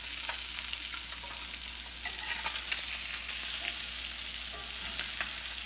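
Zucchini, banana squash and yellow peppers seasoned with salt and pepper fry in olive oil in a very hot pan, giving a steady, close, crackling sizzle with scattered sharper pops throughout.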